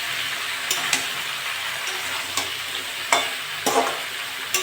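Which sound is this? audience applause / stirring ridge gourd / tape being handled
stirring ridge gourd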